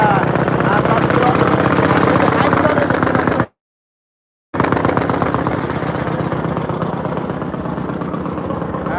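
Engine of a moving passenger launch boat, a loud, steady, rapidly pulsing drone heard from on board, cut by a brief silence midway before resuming.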